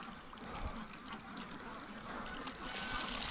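Water runs steadily from a garden hose at a free-range duck pen in freezing winter weather, a soft continuous trickle and splash heard close by with no talking.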